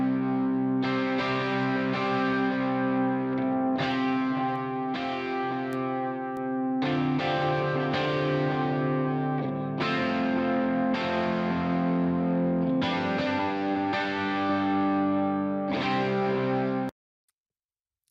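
An electric guitar track plays strummed distorted chords with a chorus-like sheen, first dry and then with a JST Clip plugin added, steady and loud until a sudden stop.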